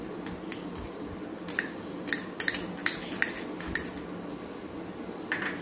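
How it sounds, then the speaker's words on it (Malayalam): Masala peanuts with spices and curry leaves being mixed in a pan, heard as a close series of sharp metallic clinks and scrapes from a utensil against the pan, irregular and fairly loud, with no talking. "എന്നിട്ട് നമുക്ക് ഒന്നുകൂടി ഒന്ന് മിക്സ് ചെയ്ത് കൊടുക്കാം നന്നായി മിക്സ് ചെയ്യണേ"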